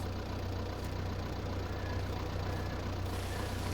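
A tractor engine idles in Farming Simulator 22, giving a steady, even low rumble at moderate volume with no talking over it.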